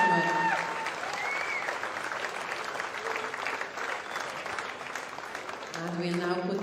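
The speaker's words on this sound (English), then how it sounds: "Round of applause" An audience at a Welsh agricultural horse show claps for a mare's prize win in the ring, a steady loud wash of applause that swells again near the end, with a few voices mixed in.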